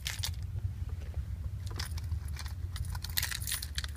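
A set of car keys jangles and clinks close by inside a 2004 Nissan Maxima Nismo, their bright metallic rattles in short bursts over a low steady hum from the car.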